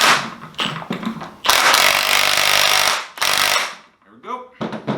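An impact tool tightens a nut on a Honda CR-V rear differential, giving loud, close bursts of harsh rattling whirr, one long burst and several shorter ones separated by brief gaps.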